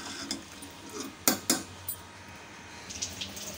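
Soaked rice and lentils are stirred into a metal cooking pot, with a few sharp spoon-against-pot clinks and soft wet sloshing, close but fairly quiet.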